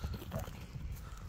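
A racing horse, shown off for its speed before an ulak game, moving with a steady clip-clop of hooves, fairly close and continuous over a low rumble of background noise.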